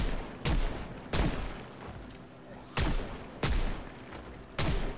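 Revolver shots in the zombie survival game Project Zomboid: five loud, sharp single bangs spaced about a second apart, each with a short decaying tail.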